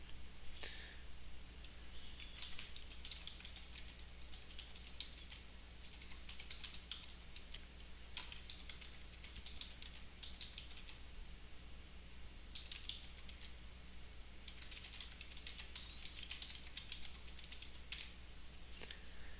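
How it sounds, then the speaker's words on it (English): A quick note typed on a computer keyboard, with bursts of soft, rapid key clicks separated by short pauses over a quiet background hum. "I'm just going to type in a quick note"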